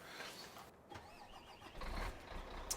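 A tractor engine cranks and turns over in Farming Simulator 2013 on a USA map, a faint, rough mechanical churn with a few clunks, settling into a low rumble near the end.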